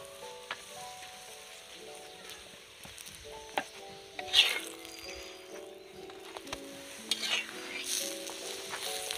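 Soft oily sizzling of aloo paratha frying on a pan, with occasional scraping and tapping of a utensil; no talking.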